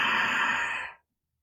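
A single long, forceful breath through a tightened throat, done as a Darth Vader–style breathing exercise during a tantra cobra breath practice, rasping steadily for about a second before cutting off into silence.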